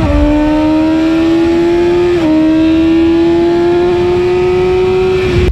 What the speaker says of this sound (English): The all-new BMW S1000RR, even in its stock standard trim, produces more power, is lighter, more compact and filled with electronics to the brim.